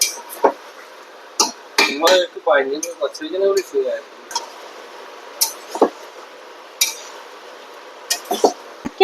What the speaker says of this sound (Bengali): আবার নেড়ে নিলাম মাংসটাকে ভালো করে, দেখুন নাড়ছি।